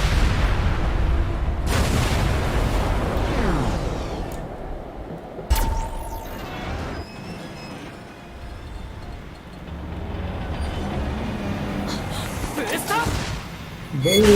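Rockets or missiles blow up in NieR: Automata as heavy booming blasts. A dense, rumbling roar of explosions and gunfire runs throughout, with sharp bursts near 1.7, 5.5 and 13 seconds. A voice talks over part of it.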